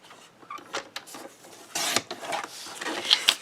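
A paper cutter slicing a craft paper sheet down to 3.5 inches, heard as close, short scraping and rubbing strokes with a brighter swipe of the blade through the paper near the middle.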